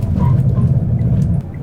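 A car brakes hard using the foot pedal and the electronic parking brake together, and the ABS sets off a loud, close, rapid low buzzing judder that holds steady and then stops abruptly near the end.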